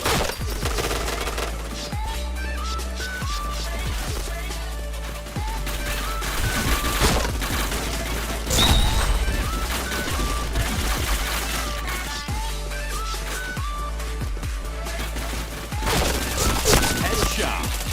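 Shooter video game gunfire with rapid automatic bursts and single cracks repeating throughout, loud and dense over game sounds and a low rumble.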